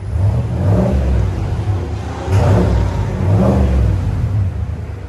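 A GMC Sierra 6.2L V8 with straight pipes revs hard three times in a row, each swell of loud, rumbling exhaust rising and falling over a steady idle.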